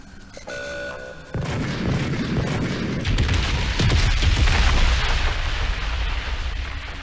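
Heavy cannon fire and explosions in the video game Crysis 3, with a tank-like gun sounding as a sustained, loud rumble of booms and blasts that swells midway and keeps rolling.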